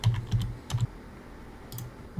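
Typing on a computer keyboard to enter a search term, heard as a few short bursts of quick keystrokes separated by pauses, close and fairly quiet with no talking.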